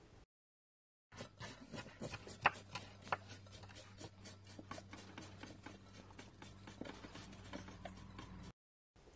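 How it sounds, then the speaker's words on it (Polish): Red cabbage being shredded and onion chopped at an outdoor village cooking setting in Silesia, Poland. A rapid, continuous run of knife strokes goes on for about seven seconds, fairly faint, with no talk over it. "szatkujemy kapustę, kroimy cebulę"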